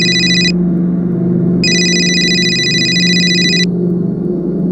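A telephone rings in an indoor scene from a crime drama, two electronic ring bursts, a short one at the start and a longer one after a pause, clear over a steady low background hum.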